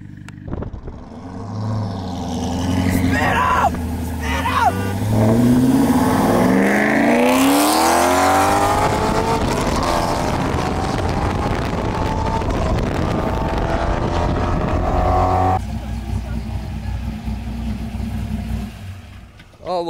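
A car revs hard at a local cruise night car show, its engine note climbing and sweeping through a long, loud smoky burnout with wind buffeting the microphone before the roar drops off near the end.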